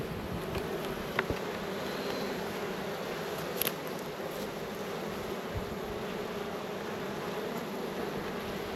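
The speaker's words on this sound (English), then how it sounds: "These bees have a mind of their own." Honeybees buzz around steadily at a hive while splits are being made, a dense continuous drone with a few sharper passes of single bees close by.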